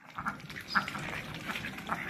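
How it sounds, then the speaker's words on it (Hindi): Ducks feeding on grain set out beside chicken feed, with soft quacks and faint pecking over quiet farmyard background, fairly low in level. "हमारी डक्स भी दाना खा रही है मुर्गियों की तरह।"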